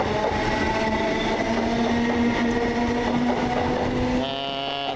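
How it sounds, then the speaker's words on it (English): A class 320 electric multiple unit pulls into a station platform near Glasgow, a steady rumbling roll with sustained tonal motor and brake whine that grows close and loud before easing off near the end. "And this is our train coming in now, which is 32418 again."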